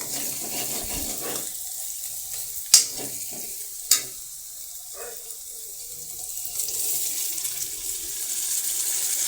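Chopped tomatoes hit a hot pan of masala for masala pav, giving a brief hiss, two sharp stirring clacks, and a soft steady sizzle that builds toward the end, with no talking.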